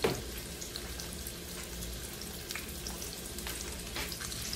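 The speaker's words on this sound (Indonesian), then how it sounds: "Sekarang aku mau goreng terlebih dahulu ya," Boiled, chopped chicken gizzards fry in a pan with a steady, moderately close crackle and sizzle, with scattered pops and no talking.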